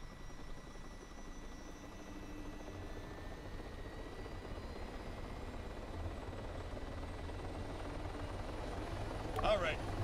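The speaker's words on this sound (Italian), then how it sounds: "sposta quel cazzo di elicottero, se no te lo sposto io" A helicopter in the Arma 3 video game drones with a steady rotor whine throughout, growing slightly louder toward the end, while people talk over it.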